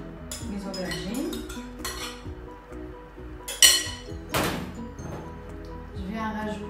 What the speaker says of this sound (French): je vais mixer le tout. Donc, je mets mes aubergines